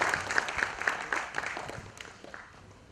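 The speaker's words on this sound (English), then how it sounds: "A big round of applause for Mr." An audience at an HR anniversary conclave applauds as a speaker is welcomed, a close, dense patter of many clapping hands with a few distinct sharp claps, gradually thinning and fading toward the end.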